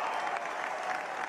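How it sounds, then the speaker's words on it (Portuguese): A large crowd applauds during a presidential election victory speech in the United States, a dense, continuous roar of clapping at a distance, brief and steady with no voice over it. "o público todo aplaude"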